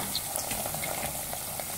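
Green beans added to golden fried onions sizzle steadily in a pan, a continuous moderate frying hiss with faint stirring clinks, no talk.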